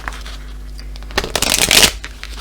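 Oracle cards are cut and riffled in one brisk papery flurry lasting under a second, close and loud over a low steady hum, with no talk.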